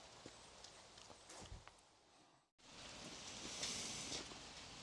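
Steady rain pours down during a motorcycle trip, a broad hiss that drops out briefly mid-way and then returns louder and denser, with a few faint knocks early on.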